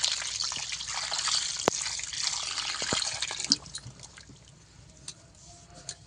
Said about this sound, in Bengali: প্রথমে আমি জলের মধ্যে লেবুটা দিয়ে দেব। লেবুটা ভালো করে ধুয়ে নিতে হবে।